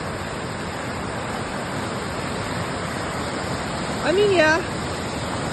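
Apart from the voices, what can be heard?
rain-swollen creek rushing in rapids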